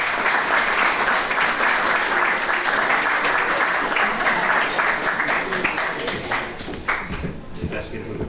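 Steady applause from a seated audience at a writers' reading event, loud and continuous for several seconds, thinning slightly toward the end with a few scattered claps and faint crowd murmur.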